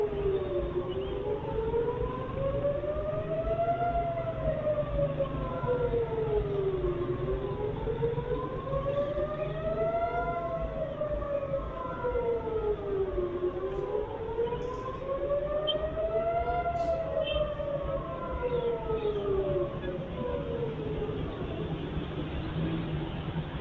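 Several sirens wail together, rising and falling in overlapping slow sweeps, steady and fairly loud throughout over a low background rumble.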